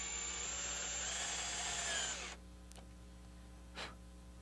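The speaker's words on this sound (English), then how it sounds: "find a bit size that will drill out a hole that's big enough for this head" A power drill whines steadily up close for about two seconds while boring into a wooden chair, then stops, leaving quiet room noise and a faint bump.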